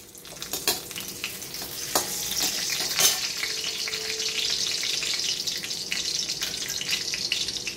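Raisins fry in ghee in a pan, a constant close sizzle with a few sharp clicks and scrapes of stirring scattered through.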